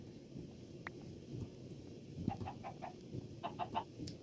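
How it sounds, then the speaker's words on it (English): Chickens cluck in the Minecraft video game, a run of short clucks near the end over a steady ambient background, with no one talking. "We're right next to some chickens"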